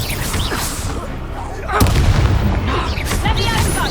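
A loud Confringo fire spell blast goes off in Hogwarts Legacy combat, a sudden booming burst amid heavy battle noise and voices.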